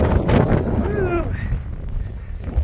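Strong gusting wind buffets the microphone on an open hiking trail near a rock arch, a loud steady rumble throughout with a brief whistle-like tone in the middle.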